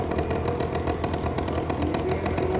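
At a well of death stunt show, a motorcycle engine sputters and clatters steadily up close, running loud and rough without any voices over it.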